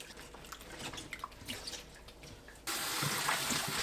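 Garlic scapes are washed in a basin of water, first with soft splashing and dripping, then a tap gushes loudly and steadily for the last second; no one speaks.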